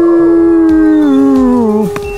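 A long, loud, close howl like a dog or wolf, one sustained tone that slowly falls in pitch and ends with a sharp drop, heard alone.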